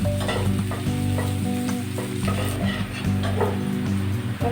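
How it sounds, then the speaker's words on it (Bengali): Chopped onions sizzle steadily in hot oil in a pan, a loud, continuous frying hiss with occasional soft stirring scrapes throughout, no voices present. "এখন আমি পেঁয়াজ কুচি দিয়ে দেব। এখন আমি এটাকে লাল করে ভেজে নেব।"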